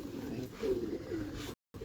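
Medium-sized pigeons coo softly in a Karachi loft, a low warbling call rising and falling once or twice, faint and close, with a brief dropout near the end.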